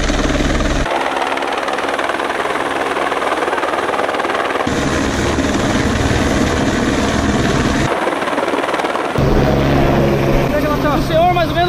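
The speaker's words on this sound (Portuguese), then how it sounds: "O helicóptero aqui tá se posicionando." A rescue helicopter holds and repositions near a trailhead during an ankle-injury evacuation, its loud, steady rotor drone continuous throughout with voices talking underneath.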